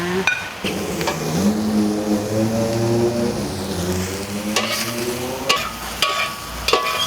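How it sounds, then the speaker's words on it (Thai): Mushrooms are stir-fried in a wok, with a steady close sizzle, scraping spatula strokes and a few sharp metallic knocks, while a whining tonal hum rises and falls under it. "คั่วเห็ดให้หอมๆ ก่อนนะคะ"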